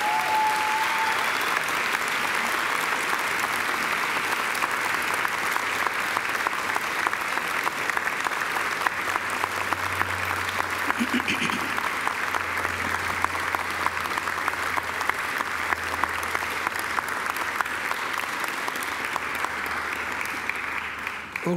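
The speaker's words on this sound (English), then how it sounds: "I now invite you to give them a mighty round of applause." Sustained applause from a university graduation audience, a dense and even roar of clapping from a large crowd lasting over twenty seconds with no break.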